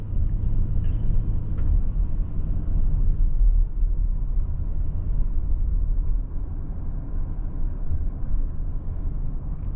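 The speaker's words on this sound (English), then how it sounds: "As soon as I try to give it any gas, we'll see that kick off, and that engine's gonna kick on." A 2025 Toyota Sienna hybrid minivan's gas engine starts up and runs while driving, giving a steady low rumble over road noise that holds at an even level throughout, with no talk.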